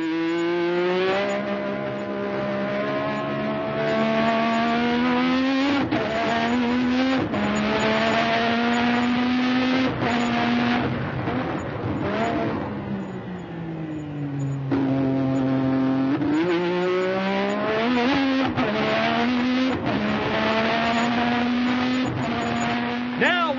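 A race car screams through the Acqua Minerale chicane and Variante Alta at Imola, its engine howling loudly and steadily, dipping as it brakes for the chicane and rising again as it accelerates back up to high speed.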